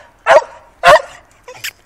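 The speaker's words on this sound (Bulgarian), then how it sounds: "Да, добро кученце." A dog barks twice in loud, close bursts, each followed by a short trailing whine, then gives a softer yelp at the end.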